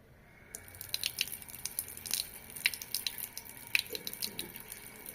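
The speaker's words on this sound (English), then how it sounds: "now we'll turn on the water" Water runs from a faucet in a quiet room, a faint steady hiss broken by irregular splashes and drips, heard close and alone.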